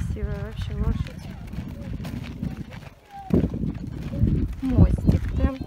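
Hooves clop in a quick rhythm as a horse pulling a chariot trots nearby, mixed with nearby talking and general outdoor bustle.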